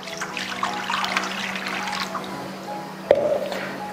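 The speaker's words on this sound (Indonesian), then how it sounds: "Yang pertama tinggal masukin airnya dulu." Water pours into a cooking pot at the start of making kolak with palm sugar, a steady close trickle under a low hum, ending in a brief splash.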